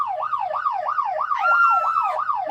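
A police car siren wails in a steady, regular up-and-down pattern, rising and falling about seven times, loud and clear with a brief horn-like tone layered in midway and no voices.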